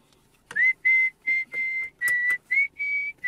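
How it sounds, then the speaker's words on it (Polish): A person whistles a tune while driving, a string of clear sustained notes in short phrases separated by brief pauses, close and fairly loud against a quiet car interior. "Całą drogę będziesz dzisiaj gwizdał?"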